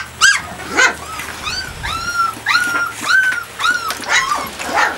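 Several puppies yip and whimper up close in a rapid series of high, rising cries, with small growls in between and no talk.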